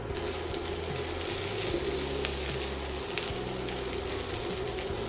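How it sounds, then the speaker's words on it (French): Shallots and cooked chestnuts frying in a pan, a steady close sizzle with occasional soft scrapes of stirring, no voices over it. "Mon échalote commence à colorer, je rajoute 150 g de châtaigne cuite et je mélange l'ensemble une petite minute seulement."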